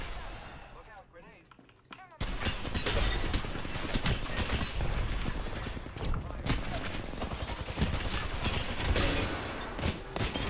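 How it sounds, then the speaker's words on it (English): A burst of loud explosions and crackling gunfire erupts in an Apex Legends match, dense and sustained after a quieter opening. "Look out, grenade."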